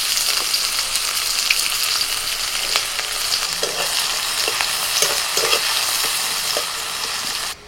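Chopped onion frying in hot oil with bay leaf, cardamom, cinnamon and cloves in a village-style kitchen, giving a steady close sizzle with scattered stirring scrapes throughout, no talk.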